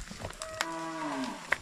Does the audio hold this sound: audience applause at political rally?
no